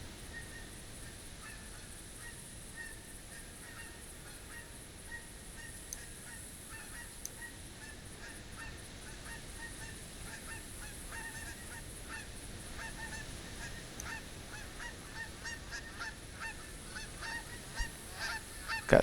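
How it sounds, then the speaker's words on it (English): Geese honking overhead in the hunting game theHunter Classic, faint scattered honks over quiet outdoor ambience, growing slightly busier toward the end. "Got some geese flying over there."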